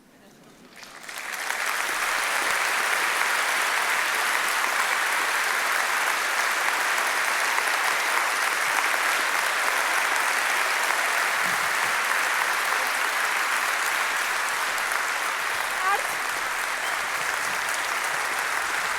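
Sustained applause from a large audience at a literary award ceremony swells in within the first two seconds and then holds as a dense, even roar of clapping to the end, with no voices over it.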